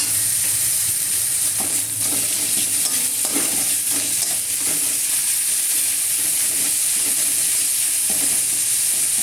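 Onion paste sizzles and fries steadily in a hot pan, a continuous close hiss broken by soft scraping stirs every second or so, with no voices.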